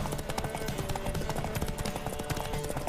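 Rapid, rhythmic hoofbeats of a galloping horse in The Witcher 3: Wild Hunt, loud and close, with a busy layer of game sounds underneath.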